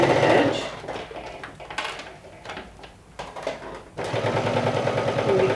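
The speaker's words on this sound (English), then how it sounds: "Top stitching about 1/8 of an inch away from the edge." A domestic sewing machine top-stitches about an eighth of an inch from the edge of crisp interfaced fabric in short rapid bursts of needle chatter, separated by brief pauses, close and fairly loud.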